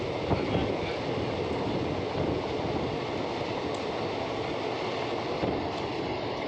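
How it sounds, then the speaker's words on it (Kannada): A train runs from Dharwad towards Mumbai past the Kalyan Nagar bridge, a steady, even rumble of wheels on rails heard from on board, with faint clicks and no talk. "ಇದು ನಮ್ಮ ಟ್ರೈನ್ ಹೋಗ್ತಾ ಇದೆ ಮುಂಬೈ ಕಡೆಗೆ."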